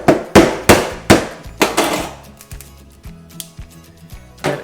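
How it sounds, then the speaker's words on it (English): A crab claw is struck at its knuckle joint to crack it off, a series of sharp close hits, about eight blows in the first two seconds, followed by softer scattered knocks and clicks. "If you hit it where it pivots, that's how you get them off easily."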